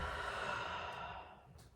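A patient breathes out during a chiropractic adjustment: one long, soft, breathy exhale up close that fades away, with no talk.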